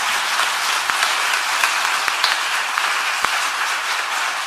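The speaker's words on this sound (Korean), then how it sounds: "우리 감사의 박수 한번 보내주시면 좋겠습니다" Applause from a church congregation at a Presbyterian gathering, a steady wash of many hands clapping that runs evenly throughout with no talk on top.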